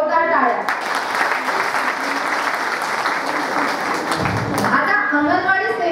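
An audience at a public event in Jalgaon, Maharashtra claps strongly for ASHA and anganwadi workers, producing loud, sustained applause that stays steady throughout, with a voice audible at the start and end.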